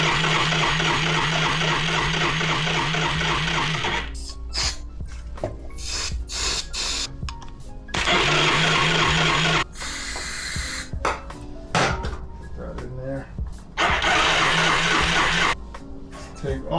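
A Yamaha Riva 125 scooter engine being cranked and trying to start, loud rhythmic churning that cuts in and out in repeated attempts with rough sputtering between, close up.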